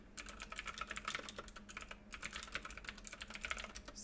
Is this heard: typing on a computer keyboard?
yes